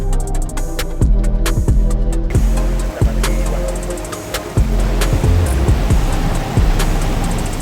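Rushing river water churns steadily during a motorcycle river crossing, loud and close, with a series of sharp knocks and clanks repeating over the wash.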